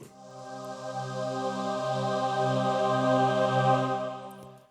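A soft, breathy synthesizer pad, the Breathy Pad preset from the Vocals category of Xpand!2 in Pro Tools, holds a sustained chord, swelling gently in volume before fading out, airy and vocal-like.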